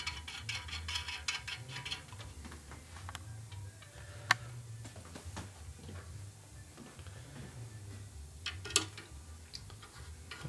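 Torque wrench tightening a bolt on a 1990s Evo Sportster big bore motor case; faint mechanical ticking and small clicks over a low hum, with a couple of sharp clicks standing out.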